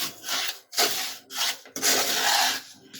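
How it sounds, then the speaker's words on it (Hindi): Roasted semolina and coconut stuffing for gujiya being stirred and mixed in a bowl, giving repeated scraping, rubbing strokes in bursts with short pauses, close and fairly loud, with no talking. "अब हम इन सबको अच्छे से मिक्स कर देते हैं।"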